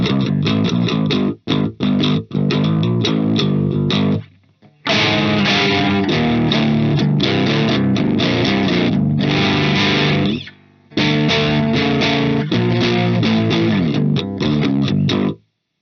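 A MIG electric guitar plays straight into a Dark Terror amp with no pedals, loud distorted chords and riffs in bursts separated by short silences.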